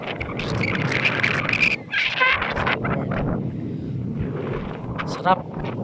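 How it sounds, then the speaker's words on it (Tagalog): Heavy winter wind buffeting the microphone in gusty rumbling bursts at a desert lake in Jubaila during a bike ride, with people talking over it. "lakas ang hangin ngayon"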